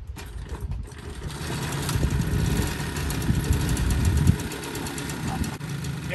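A 1978 Concord XKE moped engine is pulled through, catches and runs with a rough, uneven small-engine putter that builds and wavers over several seconds.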